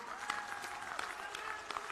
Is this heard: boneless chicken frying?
no